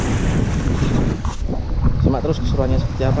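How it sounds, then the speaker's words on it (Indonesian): Wind and ocean waves wash steadily at a marina fishing spot, a broad continuous rumble with microphone buffeting, while someone talks over it throughout. "Kondisi siang ini ombaknya lumayan mabuk"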